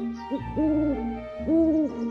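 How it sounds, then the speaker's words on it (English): Two drawn-out, low hoots from an owl, each wavering slightly in pitch, separated by a short pause, clear and fairly close. "That's right, the owl is hooting."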